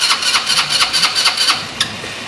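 A Kayo 180 motorbike engine cranks and tries to start with a rapid, rhythmic churning pulse, loud and close, with no talk over it.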